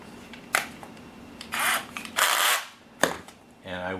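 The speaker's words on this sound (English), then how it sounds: "I will drill a couple of the appropriate size holes in this plastic" An electric drill bores holes in a plastic part for a Tamiya 1/14 Ford Aeromax semi truck model, heard as short whirring bursts separated by pauses, with clicks and a brief tone at the end.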